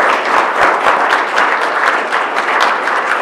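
Applause from a room of people at a school board business meeting, a standing ovation for forty years of service; loud, dense, steady clapping throughout.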